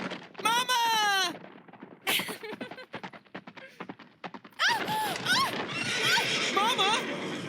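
A horse whinnies loudly several times, its neighs rising and falling, while hooves clip-clop on a forest ride and voices call out amid busy commotion.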